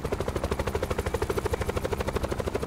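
A helicopter in a Call of Duty Blackout video game match, its rotor chopping in a fast, steady, loud pulse that runs throughout without any speech.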